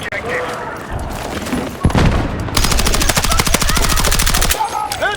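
Automatic gunfire in the video game Battlefield 6, a loud, rapid sustained burst of shots after a few scattered earlier blasts, heard close up over game background noise.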